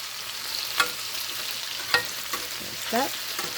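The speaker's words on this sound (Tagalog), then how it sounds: "let's start with ginger. So now we can fry our seasonings here." Ginger and seasonings frying in oil in a pan, a steady close sizzle broken by a few sharp stirring clinks and scrapes.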